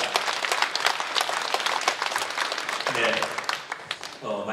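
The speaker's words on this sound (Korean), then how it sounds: "우리 하나님께 영광 박수 한번 올려드리도록 하겠습니다." A Korean church congregation at a prayer meeting breaks into brisk, dense clapping that runs loud and continuous, with a voice starting to speak over it near the end.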